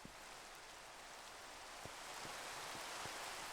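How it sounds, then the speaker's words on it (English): Steady rain in a Minecraft game hisses softly and evenly, with a few faint drops ticking through the quiet, constant wash of sound. "Oh, that's rain coming down here."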